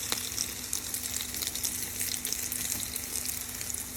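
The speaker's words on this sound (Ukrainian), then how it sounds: "накладаємо цибулечку і будемо обжарювати з двох сторін" Onion fritters sizzle in a frying pan with oil, a steady, close crackling hiss with scattered pops throughout and no talk.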